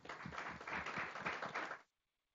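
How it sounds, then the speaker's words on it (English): A conference audience claps for the event's sponsors in a dense burst of applause lasting under two seconds, then it stops abruptly into silence. "another round of applause for our sponsors"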